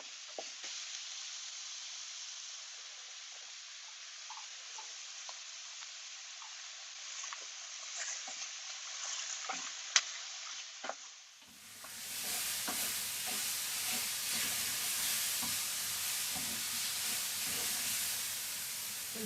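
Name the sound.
tomatoes sizzling in a pan for vegetarian paella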